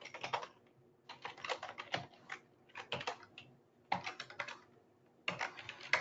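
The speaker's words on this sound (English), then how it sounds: "I've got to punch in my email" Someone types on a computer keyboard, entering an email address in quick bursts of close, crisp key clicks separated by short pauses.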